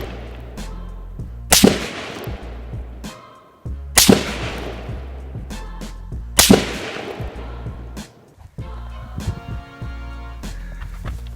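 Three loud, sharp gunshots from a PSA 10.5-inch AR pistol fired at a 100-yard target, evenly spaced a couple of seconds apart. Each crack is followed by a ringing decay, with faint clatter between shots.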